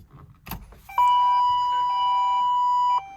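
A big machine's ignition is switched on with a click, followed by a steady electronic warning tone lasting about two seconds alongside a few short beeps, clear and close in a quiet space.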